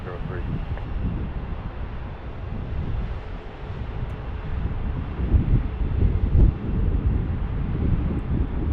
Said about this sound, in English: Now the north wind is really starting to pick up.